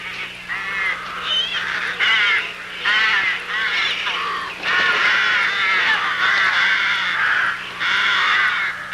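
A crowd of rooks, including young wing-tagged birds, caws and squabbles at a rookery in dense, overlapping harsh calls that continue nearly nonstop, loud and close.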